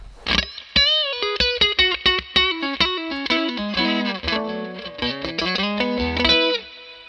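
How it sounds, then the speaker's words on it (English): Electric guitar played through a Fuzzrocious Feed Me fuzz pedal set to a low-mid scoop, loud and saturated, with a run of picked notes and sustained chords that carry continuously for several seconds without any talk. "So this is basically scooped lots."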